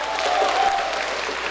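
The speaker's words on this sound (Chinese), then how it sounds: "掌声欢迎" Audience clapping steadily at a music concert to welcome guest musicians, a dense continuous patter with a faint voice underneath.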